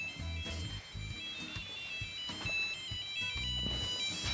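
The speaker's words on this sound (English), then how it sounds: "Your CareGo is ringing." A CareGo personal alarm tracker rings with a steady electronic tone, a repeating pattern of bright beeps and a pulsing lower tone over a few seconds, fairly faint with room noise.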